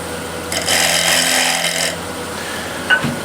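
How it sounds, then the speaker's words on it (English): A scraper refining the surface of a walnut plate spinning on a wood lathe, giving a loud, even rasping hiss that lasts a little over a second, then stops, followed by a brief knock. "using something like a scraper like this much more convenient, easier to control the shape and everything. To refine the surface."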